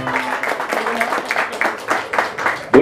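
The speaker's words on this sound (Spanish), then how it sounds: "Un aplauso bien bonito, por favor," A crowd at a quinceañera mariachi performance claps, with uneven applause of moderate loudness running throughout and a voice mixed in.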